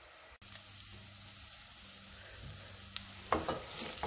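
Onions fry softly in a pan for tomato sauce, a low steady sizzle with a few faint scrapes and taps as they are stirred around, heard close and quiet without speech.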